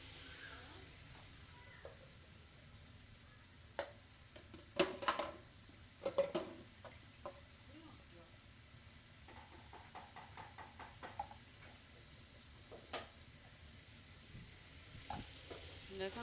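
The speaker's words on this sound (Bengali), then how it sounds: "এই যে কচুটা আমি ভালো করে একটু মশলার সাথে ভেজে নেব।" Parboiled taro pieces frying with spices in a pan, a soft steady sizzle broken by scraping stir strokes and a few sharper knocks, close and moderately loud, with no talking.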